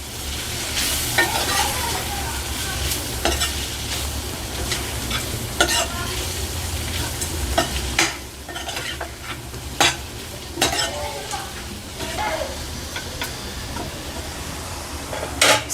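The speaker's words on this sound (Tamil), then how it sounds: "சிக்கன் மசாலா, கரம் மசாலா, பச்சை வாசனை போகிற வரைக்கும் நல்லா மிக்ஸ் பண்ணிக்கலாம்." Onion samosa stuffing with chicken masala and garam masala is stirred and fried in a pan: a steady loud sizzle with frequent scraping and clinking spoon strokes throughout, close up and with no talking.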